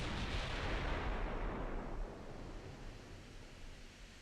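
Naval guns fire in the warship game Ultimate Admiral: Dreadnoughts, one heavy, deep boom that rolls out into a long, fading rumble.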